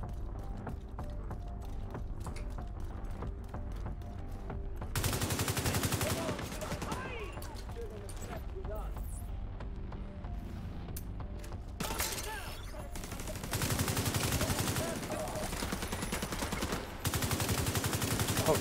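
Bursts of automatic gunfire rattle in Tom Clancy's The Division 2 as shots hit a turret, three or four loud sustained volleys separated by quieter stretches of mechanical clicks and background game noise, with some talk.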